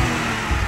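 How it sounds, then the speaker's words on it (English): A 1992 Lotus Carlton straight-six engine revving in a brief, dense burst, loud and close with a full, rich tone. "Hear that straight six though, can't you?"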